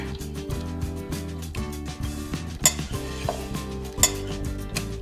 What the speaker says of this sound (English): You can stir fry.